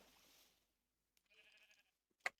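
A faint, wavering sheep bleat in a video game, in a quiet setting, followed by a brief sharp click.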